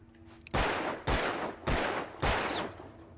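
Revolver fire in the video game Alan Wake: four loud, booming shots spaced roughly half a second apart, each with a short decaying tail, and no voices.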